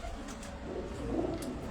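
An 18–19-year-old pigeon coos in soft, low murmurs against a quiet background, short and fairly faint.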